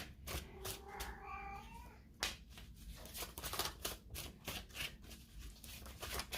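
A pet cat meows several times close by, with short rising calls early on, followed by rustling and soft tapping noises.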